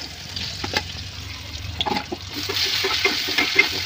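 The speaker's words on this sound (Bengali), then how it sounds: "মাছ ভাজার যে অবশিষ্ট তেলটা ছিল সেই তেলটার মধ্যেই আমি আলুটা ভেজে নিতেছি" Potatoes coated in turmeric and chili frying in leftover fish-frying oil, a steady crackling sizzle with occasional stirring scrapes, moderately close and alone without talk.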